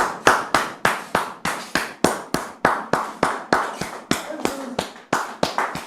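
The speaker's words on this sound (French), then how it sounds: "Sous vos applaudissements." Rhythmic unison clapping from a studio audience welcoming a guest on a talk show, sharp evenly spaced claps about three per second, loud and close, continuing steadily for several seconds.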